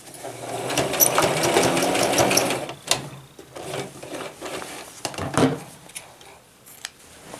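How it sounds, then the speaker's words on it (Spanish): A sewing machine stitches the side seam of a wrap dress, a close steady whirring run that breaks into shorter stop-start bursts with clicks and handling of fabric. "Ahora vamos a coser todo el costado desde abajo y hasta la manga."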